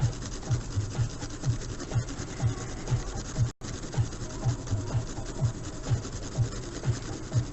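A pencil-shaded drawing is rubbed over to blend value, giving a steady close scratchy rasp with a regular back-and-forth rhythm that is broken by one brief dropout partway through.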